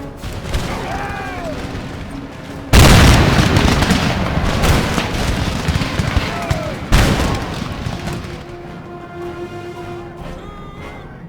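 Artillery cannons in the strategy game Empire: Total War (Darthmod), fired on approaching troops: two heavy, loud booms a few seconds apart, each trailing into rumbling crackle over continuous distant battle din.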